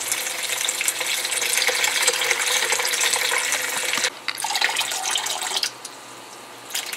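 Whey being poured off cottage cheese curds into a bowl, a steady close splashing pour that breaks off, resumes more briefly, then trails to quiet.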